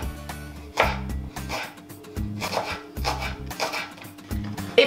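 A knife slices spring onions into small rounds on a board for a summer salad, in quick bursts of close, crisp chopping taps with short pauses between runs.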